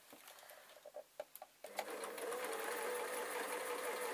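Sewing machine stitching through craft foam sheets: a few separate clicks and thumps of the mechanism, then a steady, close whirring run of fast stitching that carries to the end, with no voices.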